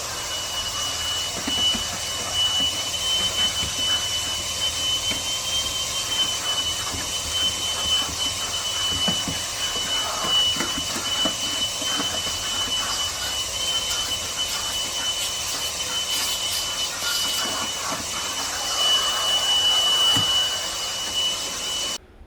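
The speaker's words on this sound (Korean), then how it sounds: "이제 청소기를 할 건데요" A vacuum cleaner drones steadily and continuously while cleaning a car interior at a self-service car wash, a constant whining roar with small shifts in pitch as it works, and no talking.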